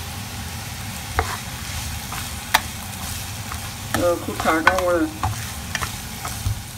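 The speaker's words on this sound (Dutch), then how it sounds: "En die gaat nu op 4 minuten meebakken, roerbakken in de pan." Chopped vegetables sizzle steadily in a hot pan, with scraping stirs and clattering utensil knocks close by, while someone speaks briefly over the cooking.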